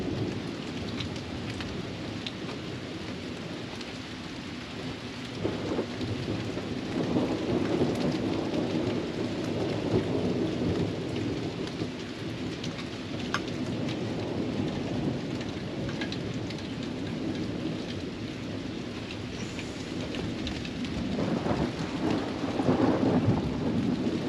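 Steady heavy rain with rolling thunder during a morning thunderstorm, a constant wash of falling water punctuated by low rumbles that swell louder at several points, heard alone without talk.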